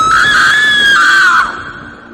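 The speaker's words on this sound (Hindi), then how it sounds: "और छलावा जोर जोर से चीखने लगती है।" A woman's loud, sustained high-pitched scream, voicing a shrieking female spirit in a Hindi horror story, held for about a second and a half before cutting off into a faint tail.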